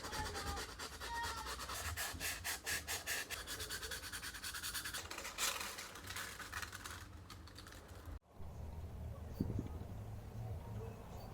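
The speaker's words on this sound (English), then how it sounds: "A little smoothing of the edges by sanding will make it functional." Repeated close-up rubbing strokes of sanding the edges of a resin piece in a steady back-and-forth rhythm, followed by a brief pause and quieter, fainter scraping.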